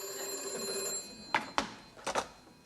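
An old telephone bell rings in short double bursts, two quick rings, a pause, then two more, fairly close in a quiet room on a British sitcom set.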